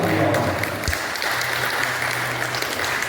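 Audience applause at a church family-month seminar on children with special needs, a steady patter of clapping from a gathered crowd lasting a few seconds, with a soft thump partway through.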